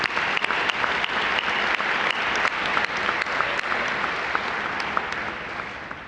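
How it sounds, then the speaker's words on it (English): Applause from the audience at a Pasadena mayor's interfaith prayer breakfast, steady and dense for about six seconds with no voices on top, easing off slightly at the end. "All those reps, give them a round of applause"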